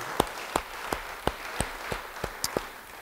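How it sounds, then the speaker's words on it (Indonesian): Applause from a church congregation during a sermon, a sparse run of distinct claps at a fairly even rhythm over a soft background wash. "Beri tepuk tangan bagi dia."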